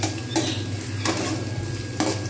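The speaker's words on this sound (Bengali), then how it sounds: "এরকম করে ভাজতে থাকবো পেঁয়াজগুলো" Onions fry in a nonstick pan while a spoon stirs them, producing a quiet, continuous low sizzle broken by a few soft scraping strokes.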